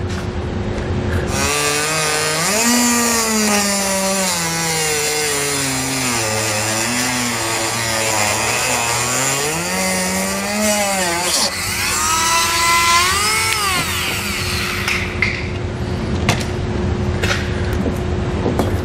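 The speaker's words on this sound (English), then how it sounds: "I'm just going to use a rotary tool with a cutting blade to cut that out." A rotary tool with a cutting blade slices through the bumper fascia of a 2015 Jeep Compass, a loud high whine whose pitch rises and falls as the load changes, with a brief higher burst near the end.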